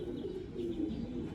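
Soft, low cooing from an old pigeon of an old breed, kept at home, a few faint murmuring coos close by and alone.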